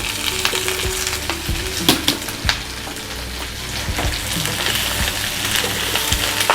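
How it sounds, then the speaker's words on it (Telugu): Ridge gourd pieces dropped into a hot pan for chutney, sizzling and crackling steadily, with sharp stirring scrapes and clatters breaking through the frying noise. "ఇంకా మనము ఇప్పుడు బీరకాయ ముక్కలు వేసుకుందాం."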